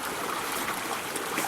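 A random creek runs through a pine bottom after heavy rain, a steady broadband rush and trickle of water flowing continuously at close range, with no voices.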